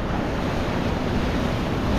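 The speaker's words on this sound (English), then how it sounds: "A few waves in this spot." Ocean waves wash steadily at a tropical island fishing spot, a loud, continuous roar of surf with wind across the microphone and no voices.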